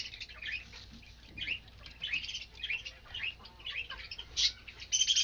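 Doves moving and calling softly inside a cage, with scattered chirps, squawks and wing flutters close by, fairly faint and intermittent throughout.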